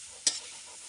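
A single quick stir of grated coconut and cassava in a pan gives one short scrape over a soft, steady sizzle.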